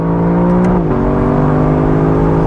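Lexus LC 500 convertible V8 engine pulling hard at full throttle after a paddle downshift, a loud steady roar whose pitch dips at the shift, then holds and climbs evenly, heard up close with no talking.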